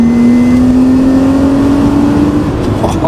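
An Audi coupe engine pulls hard along a straight road, its rising drone climbing steadily in pitch, loud and close from inside the car, with no talking.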